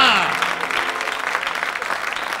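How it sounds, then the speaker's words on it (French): A church congregation claps together in a dense burst of applause that starts loud and gradually thins, with voices mixed in. "Give a hand to God"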